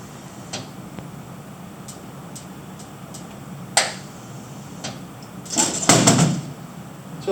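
A natural gas mixture ignites in a demonstration chamber with little visible flame, giving a short, muffled whump and rumble near the end, after a few faint ticks and clicks.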